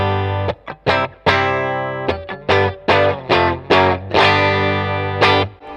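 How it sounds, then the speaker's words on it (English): Fender Player Series Telecaster on its bridge pickup, a sequence of bright, twangy plucked notes and chords with some grit and effects colour, each note ringing briefly before the next, played alone and up close. "that classic Tele twang."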